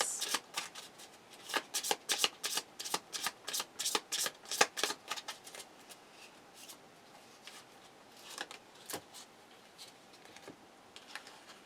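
Angel Whisper oracle cards being shuffled close up, a rapid run of crisp riffling snaps through the first half, then slower scattered flicks and taps, with no voices.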